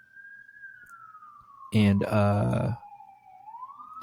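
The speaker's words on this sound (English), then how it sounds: "Sorry about the sirens outside." A steady wailing police siren rises and falls in the distance outside throughout while someone speaks briefly over it.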